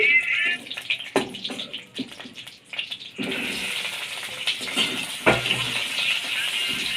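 Bay leaves hitting hot oil in a pan while meat curry is started, a crackling sizzle that starts sputtery and then settles into a steady, close frying hiss.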